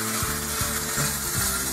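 A Meccano block setting crane's hoist runs with a quiet, steady mechanical clatter of small gears and a rhythmic ratcheting tick, close by and without voices.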